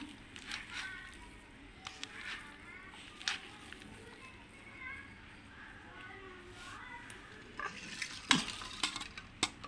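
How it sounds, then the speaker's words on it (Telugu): A spoon stirs grated coconut through cooked vegetable curry in a pan, with soft scraping and scattered clinks against the metal while someone talks over it. "ఇలాగా వేసిన తర్వాత అక్కడ బాగా కలిపేయాలండి దీన్ని"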